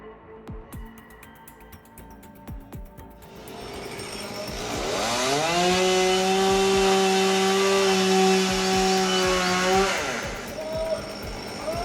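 A chainsaw revs up and bites into timber during a felling plunge cut, its loud, steady engine whine climbing and holding for several seconds before tapering off, with quieter mechanical rattling beforehand.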